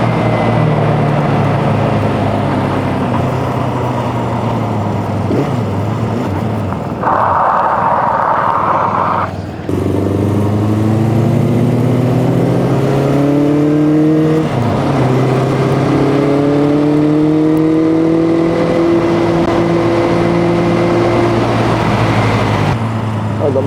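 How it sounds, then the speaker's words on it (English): A 1976 Honda CB400F four-cylinder motorcycle revving loudly and close, its engine note climbing as it winds up through the gears, with a brief shift and a steady high-pitched whine after it. "the motor really winds up, it wants to go."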